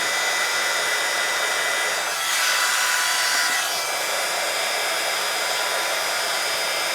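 Heat gun blowing over an embossed stamped card, a steady loud whooshing roar that swells briefly midway as the air hits the card, continuing alone throughout.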